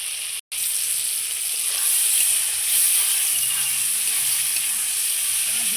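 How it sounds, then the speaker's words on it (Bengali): Sliced ridge gourd frying in hot oil with turmeric powder sizzles in a loud, steady hiss, broken by one brief dropout near the start, with faint stirring and no talking. "হলুদ গুঁড়ো দিয়ে এই ঝিঙ্গাটা আমি ভেজে নেবো খুব ভালো করে।"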